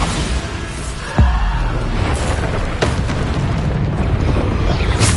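Bombarda explosion spell in Hogwarts Legacy: a sudden sharp blast about a second in, followed by a sustained roaring rumble with a couple more crackling impacts, loud and close throughout.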